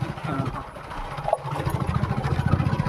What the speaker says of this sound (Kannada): ಇಲ್ಲೊಂದು ಬೋಟ್ ಹೋಗ್ತಾ ಇದೆ